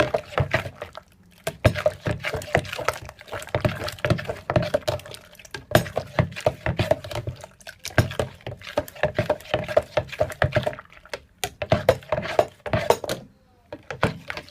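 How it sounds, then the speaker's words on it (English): A spoon stirs Jamaican Guinness punch seasoned with nutmeg, giving repeated clinks and knocks against the container in an uneven rhythm, close and fairly loud. "So I'm just gonna stir it."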